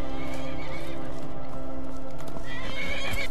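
A horse whinnies loudly over steady clopping hooves in the game Skyrim, with a busy layered game soundscape behind it.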